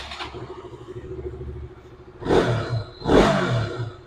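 A motorcycle engine cranks and catches twice in quick succession, rumbling close by over a steady idle hum.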